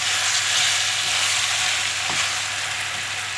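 Onions sizzling in a pan, a dense, even hiss of frying that holds steady throughout at close range, loud and unbroken, with no voices.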